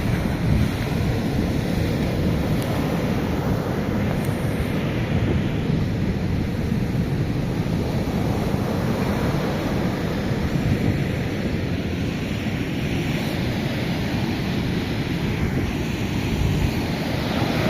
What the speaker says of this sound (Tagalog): Lakas ang alon ngayon.